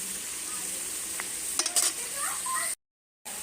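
Potatoes sizzle in a wok as a spatula stirs them, a close steady frying hiss with a few sharp scrapes near the middle, then a brief cut to silence.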